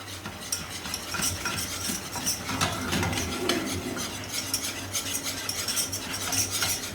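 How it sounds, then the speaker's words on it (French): A spoon scrapes and stirs flour into melted butter in a pan to make a roux for homemade lasagne, with a steady rhythmic scraping and a faint sizzle, close and alone. "Une fois que votre beurre est fondu, ajoutez-y toute votre farine. Et incorporez-la au beurre."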